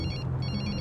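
Mobile phone ringtone playing in a scene from the Bollywood action film Baaghi, a short continuous electronic trill that is moderately loud against a dense background, with no talking.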